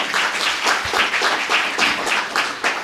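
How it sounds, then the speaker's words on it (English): A conference audience applauds a cyber security panel, steady dense clapping sustained throughout at an even level with no talk over it. "Ladies and gentlemen, please give the panel another round of applause."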